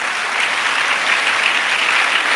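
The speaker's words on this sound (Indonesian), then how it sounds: "tepuk tangan untuk beliau." Loud, sustained applause from the audience at an Indonesian religious sermon, a thick, even wash of many hands clapping with no pauses or voices standing out.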